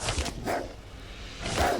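A creature in a video game lets out a brief, mid-loud cry with a bark-like, dog-ish quality, a few short bursts separated by pauses.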